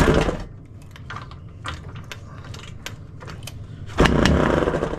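An RM80 135cc motorcycle left unrun for 40 years is kicked over, with clanking, ratcheting mechanical strokes and faint sputters, ending in a short louder burst of engine noise close by.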